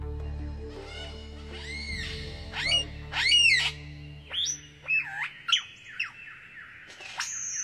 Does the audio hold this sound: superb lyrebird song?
yes